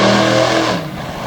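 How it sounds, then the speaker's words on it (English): A Hemi-engined mud truck roars through a donut on a dirt track at a Selinsgrove, PA racing event. The engine is loud and close with a steady, harmonic growl that eases off toward the end. "Kicking up the dust on the far end of the track with a donut."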